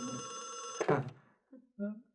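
A telephone bell rings in a sustained burst, then cuts off abruptly. A short voice and another brief tone follow in an indoor drama scene.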